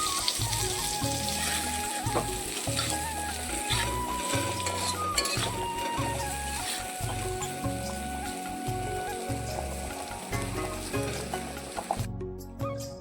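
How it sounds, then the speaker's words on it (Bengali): Brinjal slices fry in a pan while being stirred, giving a steady, close sizzle that continues throughout, with faint clinks and scraping and a tonal hum in the background. "আর এখানে বেগুন ভাজা বসালাম, তো বরকে নাড়তে বললাম, তো বর নাড়তেছে।"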